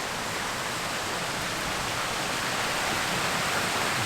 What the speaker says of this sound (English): On the wee river.